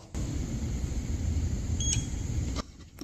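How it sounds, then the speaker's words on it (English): A single short electronic beep from a NEXXBIKE X5 Plus electric bike shutting off rises briefly above a steady low hum, then the hum cuts out. "it does one beep, shut your bike off"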